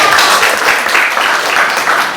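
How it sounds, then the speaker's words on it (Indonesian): A university office-management classroom of students claps together, a short burst of brisk, fairly loud applause in a room. "tepuk tangannya dulu dong"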